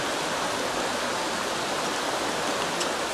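Floodwater from a swollen river during flooding in Hermanas Mirabal province rushes past in a dense, steady roar, loud and close, with no breaks or voices over its continuous hiss.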